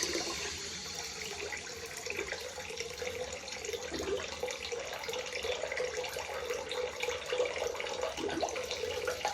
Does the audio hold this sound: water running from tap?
yes